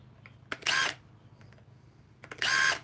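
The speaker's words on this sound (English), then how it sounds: "Here's an impact wrench. That's on low." Milwaukee 12V cordless impact wrench running on its low setting, giving two short, sharp whirring bursts about two seconds apart, each under a second long, separated by near silence and a few faint clicks.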